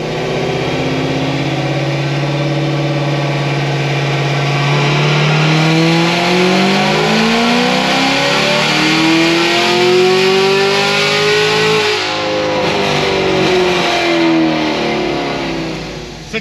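A Cadillac CTS-V V8 on a dyno revs up through a long, smooth pull, rising steadily in pitch and staying loud and close before easing off near the end, with no talking.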